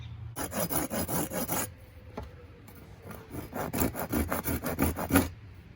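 Hand sawing into a wooden longbow limb near its tip, two bursts of steady back-and-forth rasping strokes separated by a brief pause, close and fairly loud with no talking.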